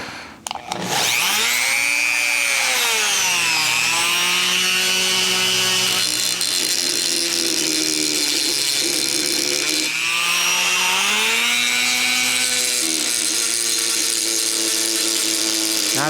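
Rotary tool fitted with an orange bullet-shaped grinding stone ports the cylinder of a Garelli SSXL NOI moped, a loud high whine that rises and dips as it bites into the metal, running steadily close by with no voices.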